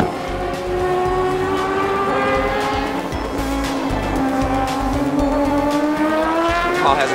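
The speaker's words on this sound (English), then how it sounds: "the star of the weekend is the Mazda 767B and its rotary engine" A Mazda 767B rotary-engined race car screams past at a classic race meeting, its high engine note rising and sweeping steadily in pitch, loud and close, with no talk.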